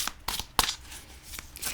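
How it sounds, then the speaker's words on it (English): A deck of Dark Side of Tarot cards, printed on fairly thin cardstock, is shuffled by hand in several short, close riffling bursts with clear pauses between them, with no talking. "let's do a little shuffle test. They shuffle really nicely."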